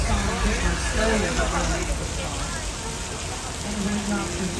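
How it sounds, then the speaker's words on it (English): Artificial rain sprayed from sprinklers at a Universal Studios Hollywood show falls in a steady, broadband patter and hiss throughout, with people talking underneath it. "The rain is coming out of sprinklers."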